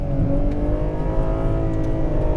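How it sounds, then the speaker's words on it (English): A Ferrari 812 Competizione's V12 accelerates hard at Fiorano, a loud, dense engine roar with a rising harmonic whine, close and sustained with no talk. "But that acceleration, oh my God, that V12 is a sensation."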